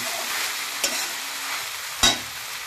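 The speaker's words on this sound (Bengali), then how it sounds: "আমি গ্যাসটা স্লো করে আস্তে করে নেড়ে দেবো" Soaked stale rice stirred in a pan over low gas: a steady soft frying hiss runs throughout, broken by two brief scraping strokes of the spoon against the pan.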